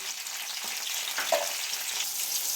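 Green chillies slit and sprinkled with turmeric fry in a hot pan, a steady close hiss and sizzle with faint stirring scrapes and no voices.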